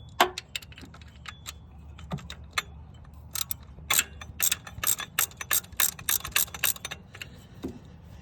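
A ratchet tightening bolts on a Honda CR-V part during a water pump replacement, with rapid bursts of sharp clicking pawl sounds in uneven runs, close and loud over a low background hum, without talk.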